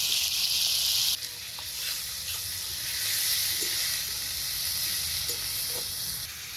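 Ginger paste, ground on a stone slab, sizzling in hot oil in a wok for a rohu fish curry, a steady bright hiss with a few light clinks, no talking.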